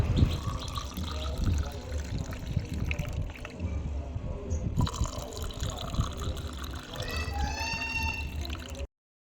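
Jaljeera sherbet being poured into a glass, a close trickling and filling splash with a few drips, heard under a person talking.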